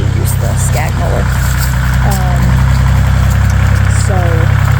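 A tractor engine idles steadily with a constant low rumble and vibration, close and loud throughout, with brief squeaks and clanks over it in a front yard.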